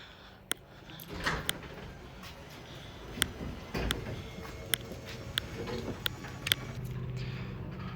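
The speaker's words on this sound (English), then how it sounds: "Let's just turn the door up." A Genie 3055 garage door opener raises the door, a steady mechanical rumble carrying sharp, regularly spaced clicks and rattles of the door moving along its track.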